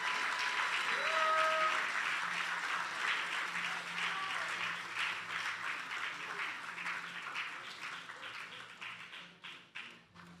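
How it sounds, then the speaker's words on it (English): A convocation audience claps for honorees at an Alpha Phi Alpha Honours Day ceremony, a full burst of applause that peaks early and then thins into scattered claps as it fades. "Let's give all of our honorees a round of applause."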